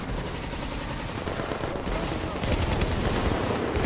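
Mounted gun firing steadily in the shooter game The Division, a dense, continuous roar of rapid automatic fire that stays loud from start to finish and swells slightly near the end, with a voice talking faintly underneath.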